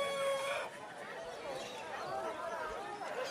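Roosters crow and chickens cluck at an outdoor bird fair in Campodarsego near Padova, with several overlapping calls and a long crow at the start. Nearby people chatter throughout.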